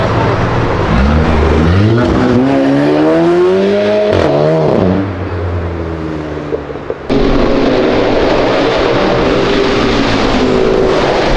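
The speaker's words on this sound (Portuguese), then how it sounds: "M3 tá com ronco muito louco" A BMW M3 with a V8 engine roars along a city avenue, its revs climbing and falling in loud sweeps before easing off, then surging again nearby.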